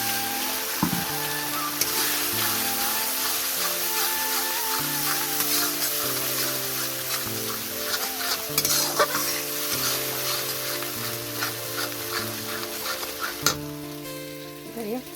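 Tomato and cashew paste with turmeric and Kashmiri chilli sautéing in a pan, a steady close sizzle with stirring sounds throughout, while background music plays.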